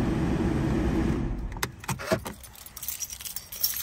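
Car keys jangle as a 2012 MINI One is switched off: the steady hum of the running car cuts out, then several close, bright metallic jingles ring out in short bursts in the quiet cabin.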